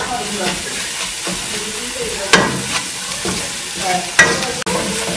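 Spice masala with Kashmiri chili frying in a pan for red kidney bean curry gives a loud, continuous sizzle and hiss, with the scrape of stirring and a couple of sharper clanks.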